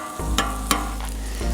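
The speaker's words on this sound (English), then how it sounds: "the bacon's been cooking on here for a little bit" Bacon frying on a Camp Chef griddle gives a steady sizzle and crackle under a low hum, broken by a few sharp scraping clicks from a spatula.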